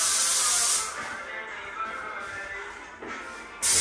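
A paint sprayer hisses onto the walls of a newly built house in loud, close bursts, cutting off briefly and starting again with a harsh, airy spray sound and no voices over it.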